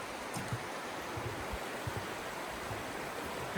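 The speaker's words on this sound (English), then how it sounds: "Crossing over I think it's Big Stony Creek, which is right down here." Big Stony Creek rushes below a crossing on the Appalachian Trail, a constant broadband wash of flowing water, steady and moderately loud with faint low knocks, no talking.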